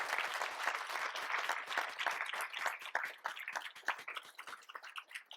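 An audience at an economic forecast luncheon applauds guest speaker Pierre Cleroux, BDC chief economist, with moderately distant, lively clapping that thins toward the end.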